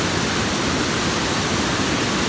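Bog River Falls near Tupper Lake, New York, swollen after heavy thunderstorms, pours as a steady, loud, broadband roar of rushing water close by, with no other sounds.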